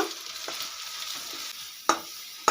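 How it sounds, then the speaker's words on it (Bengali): Spice paste of ginger, garlic, turmeric, red chili, cumin and coriander powders frying in a pan, a soft continuous sizzle broken by a few sharp spatula scrapes, close, no voices. "মশলাটা খুব ভালো করে এবারে কষিয়ে নেব"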